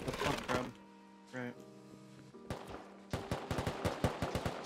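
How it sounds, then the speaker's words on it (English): Rapid bursts of gunfire in the survival video game Rust, heard as a cluster of sharp close shots in the last second and a half, with game tones and a voice speaking earlier. "Shooting at me."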